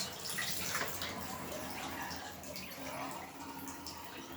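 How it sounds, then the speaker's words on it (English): Leftover fabric dye liquid tipped out and running away down a drain, a continuous trickling, splashing wash of water at moderate level that carries on throughout. "So I tip all this excess liquid out."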